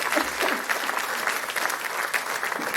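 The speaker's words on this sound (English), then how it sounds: "Yes, that deserves applause." Audience in an auditorium at the Bangalore International Center applauding steadily, a dense wash of many hands clapping close and loud throughout, with no one speaking over it.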